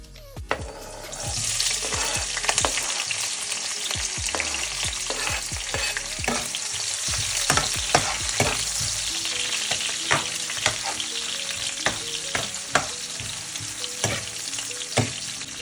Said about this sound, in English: I'm using my avocado oil to do some ackee and saltfish. Guys, I'm putting in my onion now.